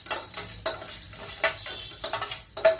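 Spices dry roasting in a hot kadai for a herbal rasam, stirred with a spoon that scrapes and clinks against the metal pan in repeated bursts over a faint background hiss.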